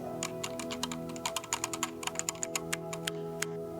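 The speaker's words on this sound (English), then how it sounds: "This is my Night Fox keyboard." Rapid, steady typing on a Night Fox mechanical keyboard fitted with Zelio 78g switches: a dense run of crisp, close key clacks with occasional heavier strokes and no voices.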